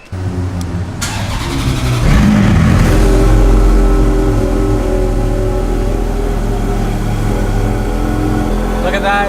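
An expensive supercar's engine cranks and fires, then settles into a deep, loud idle with a rev or two, close by, while someone speaks briefly over it.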